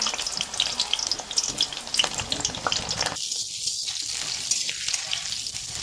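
Onion and chili frying in a pan for veg chowmein, a dense, crackling sizzle up close that eases off partway through and then picks up again.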